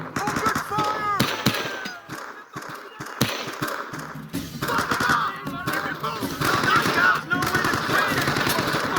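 Gunfire in the Vietnam War shooter video game Men of Valor, with rapid machine-gun bursts and scattered shots continuing throughout, close and loud amid battle noise, with soldiers shouting over it.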